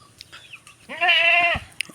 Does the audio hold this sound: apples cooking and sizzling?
no